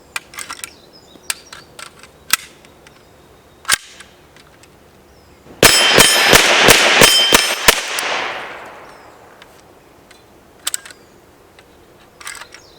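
Polish PPS-43C submachine gun fires an attempted burst from the hip, a few scattered single shots first, then a rapid string of loud sharp reports that stops abruptly as the weapon misfeeds and jams, followed by quiet handling clicks.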